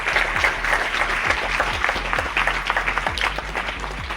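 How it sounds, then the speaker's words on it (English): Steady audience applause at a school maths quiz competition, a dense, even wash of many hands clapping throughout at full strength, with a low hum underneath. "so we can just give a round of applause for her"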